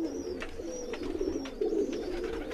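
Steady throaty cooing from breeder pigeons, nearby and rising in waves, runs through the whole moment, with faint high chirps and no one speaking.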